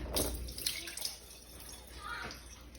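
Liquid is poured off a sourdough starter, a soft close trickle and splash of water-like fluid that comes in brief bursts, quiet and alone with no talk.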